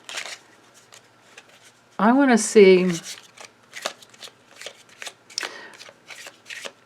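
Tarot cards being shuffled by hand in a dense run of crisp riffling and flicking, close up, with someone speaking briefly partway through.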